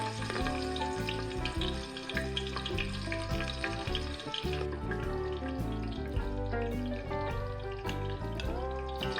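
Spring onion fries in about two tablespoons of hot oil, giving a dense, steady crackling sizzle close by with no talking.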